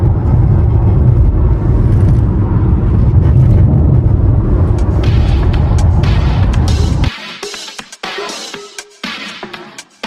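A car drives along a road in Catalonia, Spain, in 28-degree heat, with a loud steady rumble of engine and road noise for most of the stretch, then a sudden cut to quieter, patchier sound.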